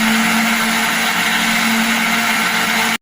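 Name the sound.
blender grinding rice batter with egg and green chilli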